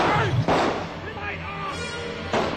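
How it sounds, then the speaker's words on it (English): Gunshots ring out at night during a staged boat rendezvous, a few sharp loud cracks with reverberation. One comes near the start and another near the end, with a low rumble between them. "These gunshots were part of what turned out to be an elaborate hoax"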